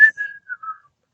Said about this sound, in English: whistle while you wait